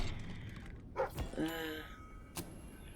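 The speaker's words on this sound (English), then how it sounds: "You were either barking to tell me of treasure or quest." A dog in the video game Fable 3 barks a few quick, close, clear times in a short burst, then falls quiet. Only faint game ambience sits around it.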